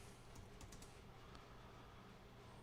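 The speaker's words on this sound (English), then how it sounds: "What am I typing in here?" Quiet keystrokes on a computer keyboard, a short cluster of faint clicks near the start, then steady low room hum with no talking.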